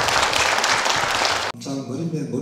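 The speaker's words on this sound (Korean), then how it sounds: "박수를 부탁드리겠습니다." An audience at the opening ceremony of an academic conference on Goryeong Gaya history in Mungyeong Hamchang applauds loudly. The thick applause cuts off abruptly halfway through, and a speaking voice follows.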